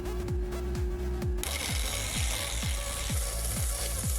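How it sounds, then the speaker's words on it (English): A large quartz gemstone ground on a faceting machine lap gives a steady, close grinding hiss with a rhythmic pulsing scrape about twice a second. "I begin by grinding a flat spot oriented about where I want the table of the stone to be."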